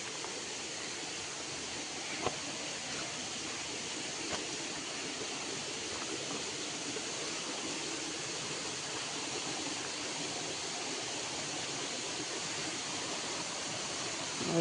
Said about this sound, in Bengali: ওই ঝর্ণার জলের শব্দ করে